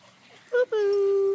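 A six-week-old Pomeranian puppy gives a short whimpering yip followed by a long, drawn-out whine, loud and close, with no talking over it.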